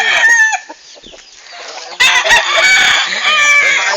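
Loud close rooster crowing outdoors in the open air, one long call breaking off, then a second strong crow that rings on, with clucking mixed in.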